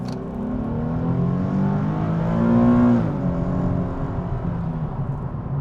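A 2014 Nissan 370Z Touring coupe with a V6 and seven-speed automatic accelerates hard to 60 mph, heard from inside the cabin as a steady, loud engine roar that climbs in pitch, dips briefly at a shift, then continues rising.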